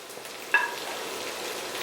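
Ten crushed small onions (shallots) drop into a hot pan of sliced onions for a Kerala-style chicken curry: a brief clatter as they land, then a steady, close sizzle with no speech.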